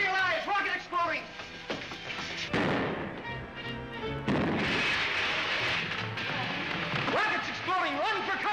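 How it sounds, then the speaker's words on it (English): A rocket explosion effect in a vintage Buck Rogers science-fiction radio drama, a rumbling blast that swells and rolls over several seconds beneath excited voices. "Rockets exploding! Run for cover!"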